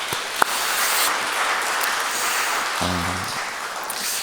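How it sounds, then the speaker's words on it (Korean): A church congregation at a Saturday dawn prayer service applauds together, a steady wash of clapping that holds for several seconds with a brief sharp knock near the start and a low hum late on. "우리 서로 우리 격려의 박수 한번 같이 보내주시면 좋을 것 같습니다"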